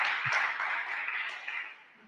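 An audience applauding at an inaugural Thomas Clarkson Day event, a steady wash of many hands clapping together that holds for a couple of seconds and then slowly fades.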